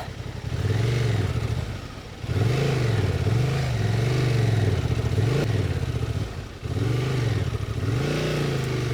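A Honda Transalp 750 motorcycle engine revs hard while riding off-road in sand, its pitch rising and falling in repeated surges of throttle. The engine is loud and close, running steadily with brief dips, and no one speaks.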